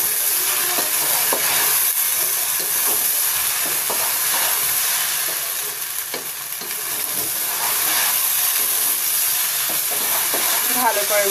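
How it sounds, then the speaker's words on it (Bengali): Rice for pulao is stirred in a pot over the heat, with a continuous dense hiss and frying crackle and soft scraping strokes along the bottom, loud and close throughout. "নিচের চালগুলোকে একদম ভালো করে নেড়ে চেড়ে না লেগে যায়"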